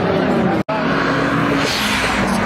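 A Honda Civic driving fast, its engine and road noise close and loud, with people talking over it and a brief cut in the sound partway through.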